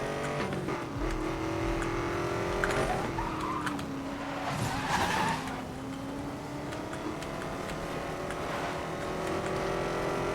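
A car races at speed in Need for Speed: Most Wanted (2012), its engine holding a steady high whine with pitch shifts and brief tire squeal, loud and continuous.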